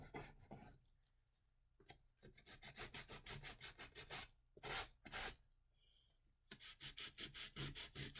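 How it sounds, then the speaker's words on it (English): Sandpaper rubbed back and forth over wooden paint sticks to rough them up for a weathered craft flag, a quick run of scratchy strokes in several bursts with short pauses between them, close and moderately loud. "I'm going over my paint sticks with my sandpaper."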